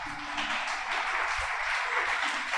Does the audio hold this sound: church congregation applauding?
yes